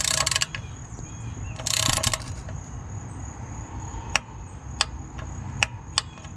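Ratchet wrench tightening the transmission pan bolts on a Ford F-150: a few quick ratcheting bursts early, then four sharp, evenly spaced clicks over a low steady hum, close and fairly quiet.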